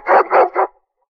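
Tracking wolfdogs give three quick, close barks in a row, loud and clear, then fall silent.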